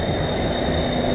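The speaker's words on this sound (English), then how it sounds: "Alright, the train is coming." A metro train pulls into the platform with a loud, steady rumble and a high whine that carries through the whole moment, with no one talking over it.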